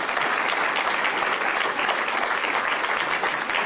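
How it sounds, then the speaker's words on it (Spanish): A church congregation at a Pentecostal service applauds together, a steady, dense clapping that holds evenly throughout without pause, fairly close and filling the room. "Dale el aplauso si lo crees."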